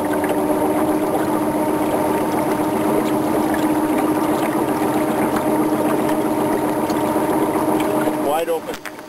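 A beta electric paddle motor drives a small boat across open water. It makes a steady, loud hum with water wash that holds constant for several seconds, then breaks up briefly near the end.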